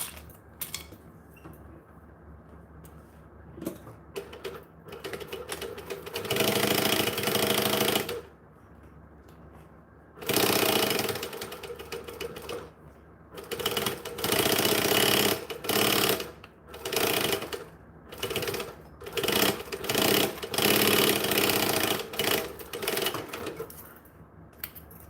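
A sewing machine top-stitches fabric for a five-piece set, running in long loud bursts broken by short pauses, with a steady mechanical whir and faint clicking between runs.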